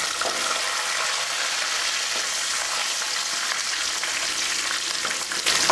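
Chana dal, urad dal, peanuts and curry leaves frying in hot oil, a loud dense crackling sizzle that stays constant throughout, with no speech.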